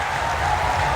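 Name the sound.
audience applause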